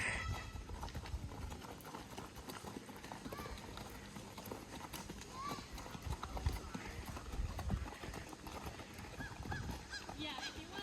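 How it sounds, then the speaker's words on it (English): On a horse farm, hooves clip-clop in an irregular, uneven walking rhythm, faint and somewhat distant beneath wind noise, with people chatting nearby and geese honking now and then. "So they're taking turns riding the horses."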